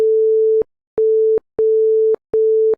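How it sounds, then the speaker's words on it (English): A basic synthesizer tone built in Flowstone is switched on and off four times, giving clean, steady mid-pitched beeps with short silent gaps between them. "So now we got just a basic tone with a button that we can use to turn it on and off."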